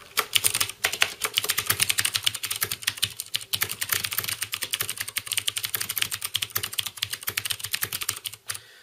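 Rapid steady typing on a mechanical keyboard with blue switches, sharp clicky keystrokes close up and loud, continuous with no talk.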